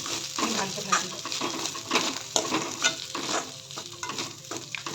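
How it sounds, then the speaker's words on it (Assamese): Cooked rice is stir-fried in a pan on a high flame, giving a continuous sizzle with repeated scraping and stirring strokes close by. "ধুনীয়াকৈ অলপ হাই ফ্লেম দি কৰি লওঁ, ভালকৈ ভাজি লওঁ"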